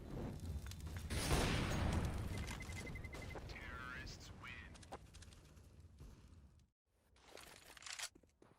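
An AWP sniper rifle fires in a competitive CS:GO esports match, sharp shots bursting over a dense wash of crowd noise and excited caster commentary.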